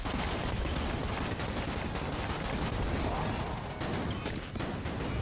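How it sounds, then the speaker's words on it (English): Rapid, continuous gunfire from the randomly firing test gun in the video game Mod the Gungeon, a loud, dense barrage of overlapping shots with no pauses, ending in a burst as the weapon explodes. "It fired every single shot and then exploded and then hurt me."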